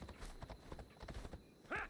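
The horse Phobos in Assassin's Creed Odyssey clip-clops along in a quick, even rhythm of hoofbeats, quiet and close, ending in a short, brighter whinny-like burst.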